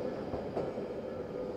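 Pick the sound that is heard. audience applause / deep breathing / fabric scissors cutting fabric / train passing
train passing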